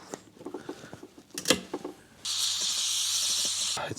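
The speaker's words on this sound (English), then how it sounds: "to put pressure, we're going to pump it up." A hand pressure tester is pumped on the radiator of a TVR 3000M, giving soft clicking strokes followed by a steady, loud airy hiss near the microphone.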